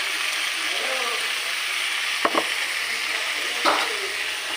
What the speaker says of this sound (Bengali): আলুগুলো দিয়ে বেশ ভালো করে ভাজবো